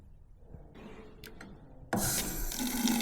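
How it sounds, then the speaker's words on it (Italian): Tap water in a room of an abandoned military institute bursts on suddenly and keeps running as a loud, steady splashing hiss after a few faint clicks and handling noises. "in alcune stanze funziona ancora l'acqua corrente. Qui funziona."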